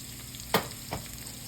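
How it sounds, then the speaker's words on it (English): Onions and garlic fry in a hot pot for Guyanese bunjal channa, a faint, quiet sizzle broken by two brief crackling pops. "Let that start crackling. The onions"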